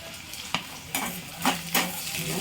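Mustard seeds, capsicum and curry leaves fry in a pan, giving a steady close sizzle broken by several sharp spatula scrapes and stirring clatters, with no talking.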